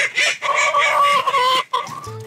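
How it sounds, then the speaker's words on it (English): A rooster at a poultry show clucks in a run of close, loud, throaty calls, with a brief gap before a final short burst. "We have Luigi, the famous rooster."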